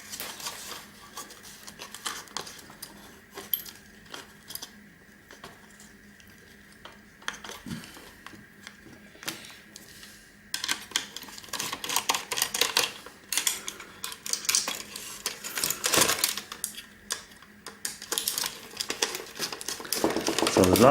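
Screws being removed from an old projector: small metallic clicks, taps and rattles of a screwdriver and loose parts, sparse and quiet at first, then busier and louder clattering in the second half.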